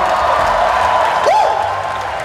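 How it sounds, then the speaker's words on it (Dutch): A crowd applauds and cheers loudly and continuously, with a single whoop rising above the clapping. "Dus applaus voor de nieuwe generatie."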